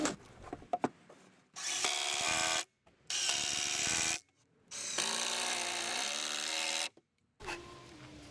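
A power drill drives 2.5-inch screws through the wooden legs into the cross brace of a garden workbench. After a few light knocks, three long whirring bursts follow, separated by short pauses, close and loud, then a fourth burst starts.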